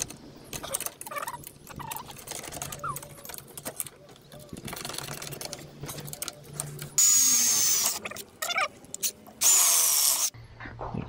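A power drill drives sheet metal button head screws while building a slide-out drawer for a Land Rover Discovery 3, with scattered clicks and handling noise, then two loud, sustained whirring bursts near the end.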